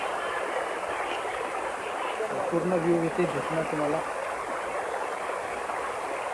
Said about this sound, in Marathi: तुम्ही बघू शकता लिटरली मस्त नॅचरल धबधबा आहे